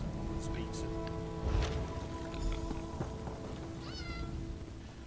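A cat meowing in the Elder Scrolls Online video game, with a few short meows amid soft footsteps and ambient game sounds, ending in a clearer rising meow.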